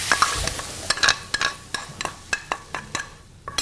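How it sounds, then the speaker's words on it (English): Mushroom stuffing filling with spinach sautéing in a hot pan, a steady sizzle broken by repeated scraping and clinking of a utensil against the pan, close and moderately loud with no talk. "And it's all sauteing."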